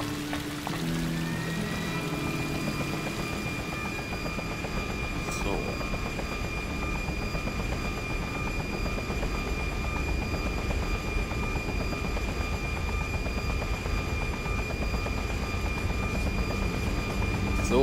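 A helicopter in the video game Just Cause drones steadily with a dense rotor whir and engine hum, unbroken for the whole stretch, with a faint tone overhead and a voice talking over it.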